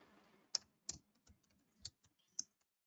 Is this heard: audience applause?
no